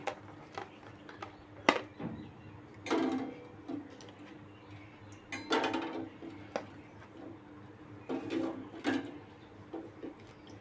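Eggs set one by one into a bowl of hot water, producing several sharp clinks and soft knocks spaced irregularly, close and fairly quiet with no talk.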